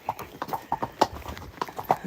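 Horses' hooves clip-clop on a paved road during a hack through Cartmel village, a brisk, uneven run of close, sharp strikes.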